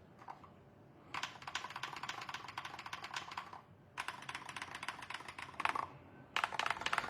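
Typing on an Akko TAC75 HE, a 75% plastic-cased keyboard with a metal plate and magnetic switches, comes in three dense bursts of rapid, close clacking separated by short pauses.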